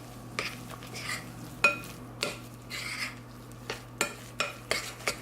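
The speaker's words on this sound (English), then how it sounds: "Let me get a spoon to mix this." A spoon stirring and scraping soft vegan cobbler dough in a bowl, a run of quick sharp clinks and scrapes repeating in a steady rhythm, close by and fairly quiet.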